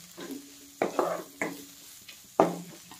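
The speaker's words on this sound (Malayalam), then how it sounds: "നന്നായിട്ടൊന്ന് ഇളക്കി വെപ്പിക്കാം" Drumstick leaves and egg for a Kerala-style thoran stirred in a pan, four or five distinct scraping strokes of a spatula against metal with a faint sizzle between them.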